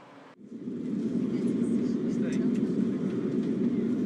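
An airplane takes off in a virtual reality flight, a steady low engine roar that swells in after a brief dip and holds as a loud, continuous cabin drone.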